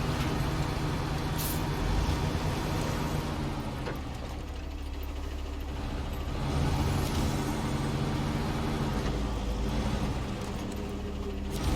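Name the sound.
truck with air brakes in video game SnowRunner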